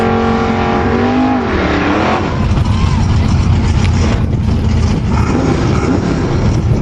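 Drag racing cars, a Chevy Camaro and a Chevy Malibu, rev and accelerate hard down the strip, engine pitch sweeping upward then settling into a loud, close roar, with a voice faintly under it.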